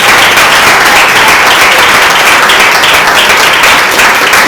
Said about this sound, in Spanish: Yo quiero pedir un aplauso al Señor por su vida.